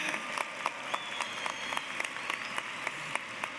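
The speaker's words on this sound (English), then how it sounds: "can we get another round of applause for all of our mothers in the house?" Crowd applause at a university commencement ceremony, a steady wash of clapping with sharper individual claps standing out, moderately distant and sustained throughout.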